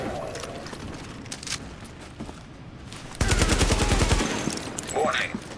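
A loud burst of rapid automatic gunfire in Tom Clancy's The Division, a dense run of shots lasting about a second, with fainter shots and game sounds before and after it.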